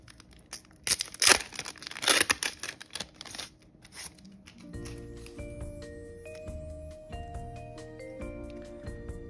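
A Japanese Pokémon card booster pack from the Mega Brave set is torn open with a few seconds of sharp, crinkling foil rips up close. Music then starts and continues beneath, with no talking.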